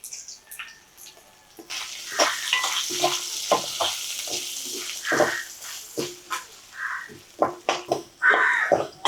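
Garlic frying in a pan as the start of a Sri Lankan style prawn curry, heard as close, intermittent sizzling bursts with stirring and scraping, growing busier and louder toward the end.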